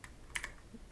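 A few quick computer keyboard keystrokes clicking close by in a quiet room, a brief cluster of taps with short gaps between them.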